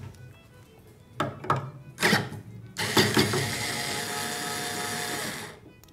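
Tuning machines on a double bass being turned to slacken the strings during restringing, heard as close mechanical clicking and ratcheting bursts that build into a sustained gritty winding and grinding for several seconds, with no speech.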